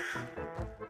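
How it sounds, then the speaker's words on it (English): A crow calling in the video game Amnesia, a single short, harsh, raspy caw heard close and on its own. "That crow noise scared me."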